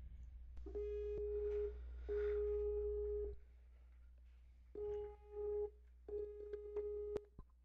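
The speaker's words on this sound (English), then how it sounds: "Immediately, once I press this, it's going to start to dial Matt." A Skype call's dialing tone plays as a series of steady electronic tone bursts separated by short gaps, clear and alone over a low constant hum.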